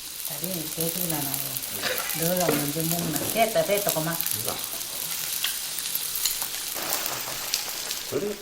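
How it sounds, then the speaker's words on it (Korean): Battered salted cucumber pancakes (jeon) sizzle and fry steadily in an oiled pan, a continuous crackling hiss with occasional louder pops, and no voices. "그런 다음 다시 반죽을 입혀 부쳐냅니다."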